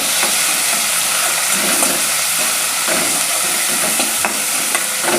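Tomatoes sautéing with onion in a pan, a loud continuous sizzle and hiss with faint stirring scrapes, close up and steady throughout.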